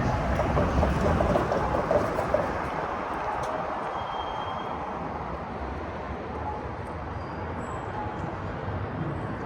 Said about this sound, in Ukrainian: трамвайчик тут ходить також є